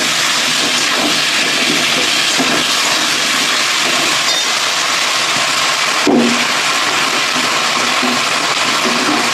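Spices with salt, turmeric and sugar sizzle in a hot pan as they are sautéed, a loud, steady, close hiss that runs throughout with a brief flare near the middle.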